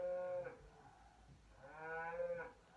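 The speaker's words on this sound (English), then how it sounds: "you hear that cow?" A cow moos nearby in a garden, two long, drawn-out lowing calls separated by a short pause, fairly clear over quiet background.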